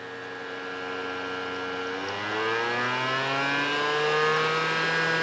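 A Sony 5.25-inch DVD-RW IDE drive spins up noisily, a loud steady mechanical whine with layered tones that step up in pitch partway through and keep rising, with no voices.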